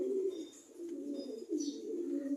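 Pet pigeons cooing nearby in a steady, low murmuring stream of soft coos, with a few brief higher chirps around them and no one talking.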